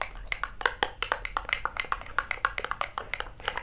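A spoon briskly stirs a single egg yolk face mask in a small bowl, producing rapid, steady clinks and taps against the sides, close and clear, with no one talking.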